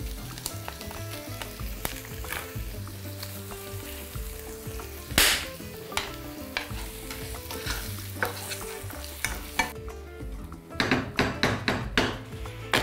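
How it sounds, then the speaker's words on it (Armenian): Chopped onion sizzling and frying steadily in a pan while making a stuffed tolma dish, a continuous close crackle with occasional sharper clatters and stirring knocks, no talk. "Սոխը թող տապակվի"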